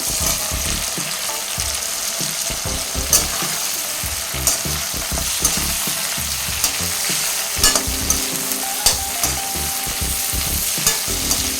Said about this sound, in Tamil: கொஞ்சம் நேரம் எண்ணெயில் நல்லா வணக்கிட்டுங்க